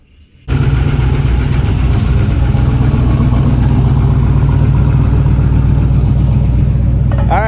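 A rock crawler's engine fires after a brief quiet moment and settles into a loud, steady, close idle with a deep throbbing rumble that holds unchanged for several seconds.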